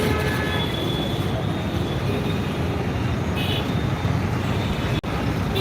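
A train at Sabarmati railway and metro station gives a steady rumbling roar with a constant background hum and a brief high squeal partway through.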